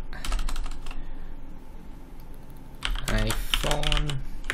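Typing on a computer keyboard: quick clusters of clicky keystrokes at the start, a short pause, then more typing as a voice talks over it near the end.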